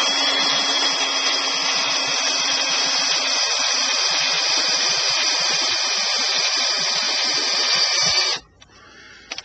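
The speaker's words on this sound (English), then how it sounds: "make sure that I'm not drilling into anything I shouldn't be" A power drill whines steadily and loudly as it drives a self-tapping screw into the body of a 2007 Mercury Mariner, running continuously for about eight seconds before cutting off abruptly into near silence.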